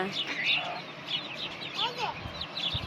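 Birds chirp and call near a flock of feeding chickens, busy overlapping chirps and clucks over a soft outdoor background, with a voice speaking under them.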